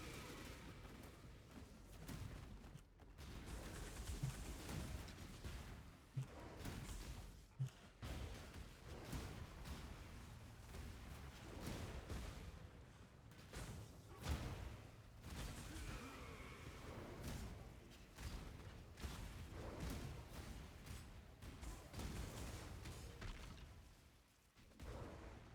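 Small explosions from the video game Path of Exile pop continuously in a tight hallway fight, producing a dense, faint stream of quick bursts and thuds with no let-up.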